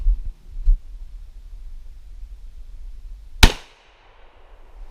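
A Remington 870 shotgun loaded with 00 buckshot fires a single loud, sharp blast that decays quickly into a trailing echo, with a softer thump and low rumble just before it.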